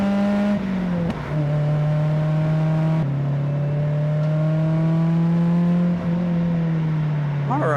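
Mazda NC Miata engine and exhaust at a track day, a loud steady droning tone held at high revs with brief dips at gear shifts, heard from inside the car.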